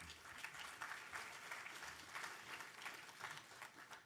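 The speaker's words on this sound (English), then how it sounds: "Please give them a big round of applause." Faint, distant audience applause at a tech event's closing ceremony, a steady crowd clapping that rises and falls gently and carries on throughout.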